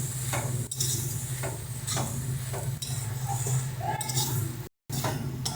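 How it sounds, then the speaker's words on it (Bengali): Fried prawns are stirred with eggplant in a pan, giving repeated scraping and clinking strokes over a soft background sizzle, with someone talking faintly. "চিংড়িগুলো দিয়ে ভালো মতন মিশিয়ে নিচ্ছি।"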